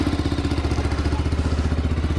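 A fuel-injected motorcycle in cold Upper Mustang, just started with one tap, idles loudly and close with a steady, rapid, slightly clattery pulse.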